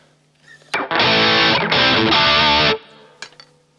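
A heavily distorted electric guitar, played through a multi-effects pedal's high-gain amp model, rings out in a loud, buzzy burst lasting about two seconds, with short picking noises before and after.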